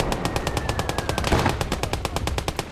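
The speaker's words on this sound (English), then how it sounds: "Just see if you can suppress that machine gun." Sustained machine gun fire in the war game Blood Red Snow, a fast, even stream of loud, close shots rattling without pause amid battle noise.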